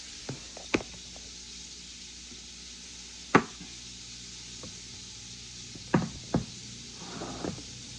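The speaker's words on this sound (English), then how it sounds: "We're going to start chopping up these vegetables." Vegetables being chopped with a knife on a cutting board in a home kitchen while a hearty southern comfort soup is prepared; a few sparse, sharp knocks are spaced apart with quiet gaps between them, and there is no talking.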